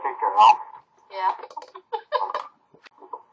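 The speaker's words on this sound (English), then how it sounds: "Cody, stop typing." Typing on a computer keyboard, with a few quick clusters of clicks between stretches of people talking, the voices dominating and the keystrokes faint underneath.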